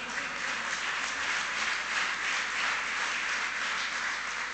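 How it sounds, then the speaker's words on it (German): Audience applause at a gala in Nürnberg, a steady, fairly quiet wash of scattered clapping that carries on without a break, thin and polite rather than enthusiastic. "Das ist so ein bisschen mitleidiger Beifall,"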